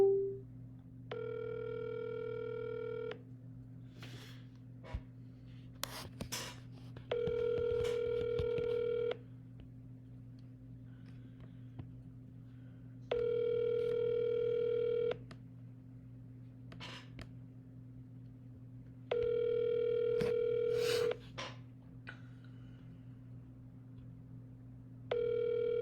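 A telephone dial tone during a run of cold calls, sounding in four steady sustained bursts of about two seconds, separated by pauses and broken by faint clicks and handling noises, over a low constant hum.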